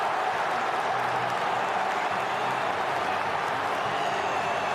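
A sellout crowd at the Swansea.com Stadium roars and applauds after a Championship Swansea goal, a continuous, even wall of cheering and clapping that holds steady throughout without breaks.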